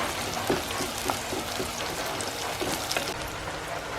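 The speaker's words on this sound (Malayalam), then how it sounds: "നല്ലോണം ഒന്ന് ഇത് വഴണ്ട് വരട്ടെ, മുരിഞ്ഞ് വരട്ടെ." Ginger and shallots sautéing in a pan for a sardine curry, a steady rain-like crackling sizzle at moderate level with a few faint taps of stirring, no talk.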